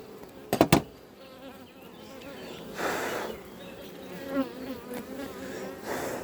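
Honeybees buzz around an open beehive during a frame inspection, a dense continuous drone close by, with a few sharp handling knocks near the start and swells of louder buzzing as bees pass near.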